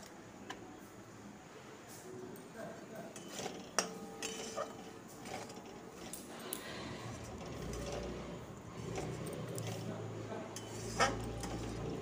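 Fried pointed gourd is stir-fried with spice paste in a pan. A spatula scrapes and clinks irregularly against the metal over a low cooking hiss, with sharper knocks now and then.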